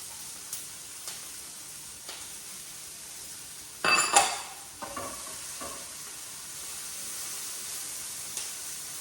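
Sliced black olives and sun-dried tomatoes tossed into a pan for a tofu scramble: a soft background sizzle, then a loud burst of crackling and stirring near the middle that settles back into a quieter, steady hiss.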